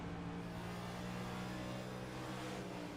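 NASCAR Next Gen race car engine at Bristol Motor Speedway, a sustained, steady droning roar with a strong low growl and no distinct revving changes, heard continuously without talk.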